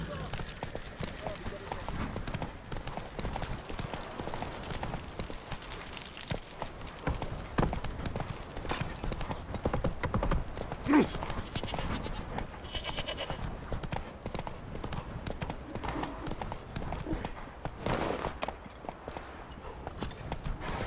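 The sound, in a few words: horse galloping in The Witcher video game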